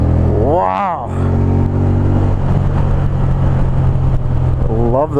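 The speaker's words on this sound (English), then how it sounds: "listen to that motor" A motorcycle engine hums steadily while riding, a close low drone with a brief rise in pitch near the start, under a voice talking over it.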